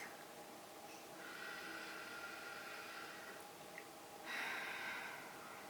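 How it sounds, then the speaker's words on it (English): A slow, deep calming breath drawn in through the nose, a long airy inhale followed by a second, stronger rush of breath, close to the microphone in an otherwise quiet room. "Just doing that one breath already calmed some nerves"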